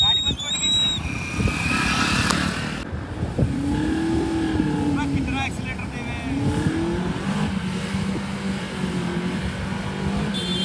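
A Mahindra Thar stuck while off-roading, its engine droning and revving steadily under loud, rough mechanical noise, with people talking over it throughout.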